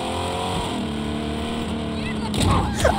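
A monster truck engine drives in the video game Just Cause, giving a steady, loud, droning growl with rising revs near the end, and voices can be heard over it.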